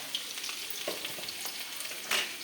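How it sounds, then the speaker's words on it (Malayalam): Mustard seeds and onion frying in a pan, a steady faint sizzle broken by a few small pops and crackles, alone with no talk. "അപ്പോൾ കടുക് ആദ്യമേ വറുത്തു."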